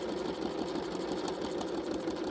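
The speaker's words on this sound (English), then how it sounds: "So I am going to keep quilting on this piece." A sewing machine runs steadily while free-motion quilting an art quilt, a fast, even mechanical whirr at moderate volume with no pauses or voices.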